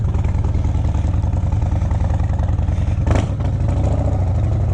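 A 2025 Harley-Davidson Breakout motorcycle engine pulls hard under throttle, a loud close low rumble with steady firing pulses throughout and a brief gusty whoosh of wind near the end.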